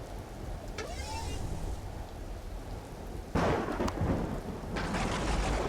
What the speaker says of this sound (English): Well, that storm didn't last very long.